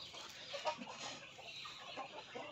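Cobra and native chickens cluck softly and steadily on a farm, several birds mingling in a low, continuous murmur of clucks with no talk.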